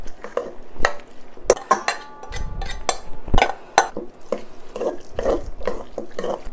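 Cold noodles are tossed with sauce in a bowl, producing close, irregular clinks and scrapes of utensils against the dish, with wet squelching bursts between them and no talking.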